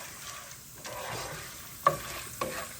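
Peanuts and chana dal frying crisp in oil, a soft steady sizzle with quiet stirring and a couple of sharp scraping clicks near the end.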